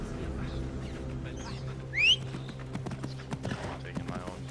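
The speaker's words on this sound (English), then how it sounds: "I prepared the horses." Steady clip-clop of horse hooves in the video game Assassin's Creed Mirage plods along over a low background hum, with a brief high bird-like chirp partway through and a voice talking.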